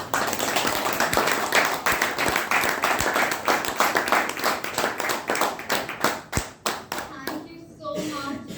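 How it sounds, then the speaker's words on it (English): Audience at a Toastmasters club meeting gives sustained, energetic applause with dense rapid hand clapping for several seconds before it thins out and a voice starts speaking. "Let's give a huge round of applause."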